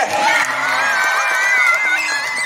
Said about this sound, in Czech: Dámy a pánové, potlesk pro Zdeňka Zajíce